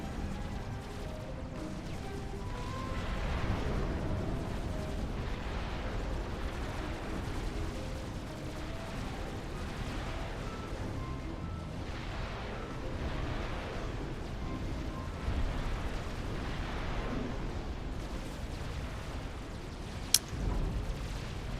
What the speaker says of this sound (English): I'm hearing rockets, mobile missile launchers.